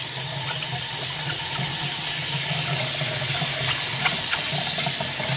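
A kitchen tap runs steadily at close range, water splashing constantly while makeup brushes are rinsed of soap, a continuous even rush with faint clinks and no speech.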